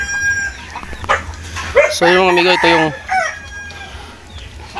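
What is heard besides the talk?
chickens clucking and rooster crowing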